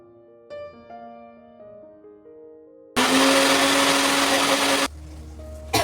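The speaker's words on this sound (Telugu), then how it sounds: "పప్పు అయితే ఇలా మిక్సీ పట్టేసుకుంటాను" A mixer grinder whirs loudly as it blends lentils with turmeric and chili, starting abruptly after quiet tonal background sounds, running for about two seconds, then cutting off.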